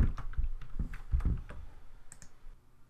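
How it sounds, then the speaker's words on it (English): Fingers type a short search term on a computer keyboard, producing a quick, uneven run of close key clicks that trails off into near silence. "I'm going to click in the second box and type living environment."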